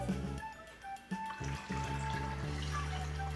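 Vegetable oil is poured through a funnel into a container for a kitchen lava lamp experiment, making a soft, steady liquid trickle and gurgle close by, fairly quiet, with no speech.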